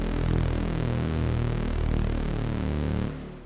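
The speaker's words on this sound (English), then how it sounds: "Okay, so that's the sound of a sawtooth." A low sawtooth synthesizer tone drones steadily, buzzy and harmonically rich with a slow phasing shimmer, loud and sustained before cutting off abruptly near the end.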